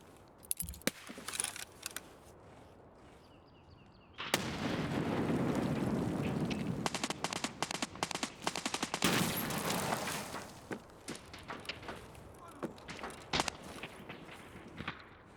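Video-game firefight with scattered gunshots, then a sustained loud barrage of overlapping fire and impacts for several seconds before fading back to sporadic nearby shots and footsteps.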